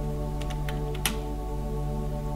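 Fingers tap a computer keyboard in a short run of about five crisp, close keystrokes over a steady low electrical hum.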